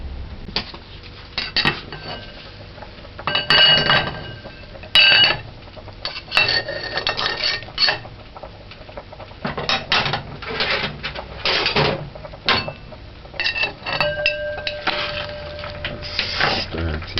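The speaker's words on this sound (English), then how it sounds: "I'm doing this careful because it's a plate. Don't want to break it." Dishes and utensils clatter on a clean kitchen stove while beef soup with pumpkin is made, with a plate set down carefully among scattered clinks, scrapes and knocks, close and fairly loud, and a voice talking in between.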